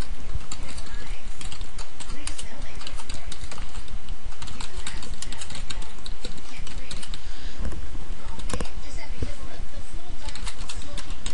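Rapid typing on a computer keyboard during a PHP coding session, dense continuous clicking with short pauses, steady and close, with a faint bed of noise behind it.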